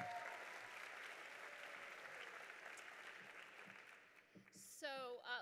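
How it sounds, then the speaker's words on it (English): Applause from a conference audience at a closing session, a steady wash of many hands clapping that tapers off before a voice begins speaking near the end. "Let's give it one more round of applause for Chelsea for that amazing testimonial"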